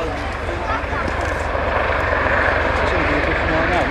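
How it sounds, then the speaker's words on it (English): A Royal Navy Merlin HM1 helicopter flying at an air display at Waddington, a steady, loud rotor and turbine drone that holds constant and near, with a commentator talking over it throughout. "This is one of the newest helicopters that's come into service."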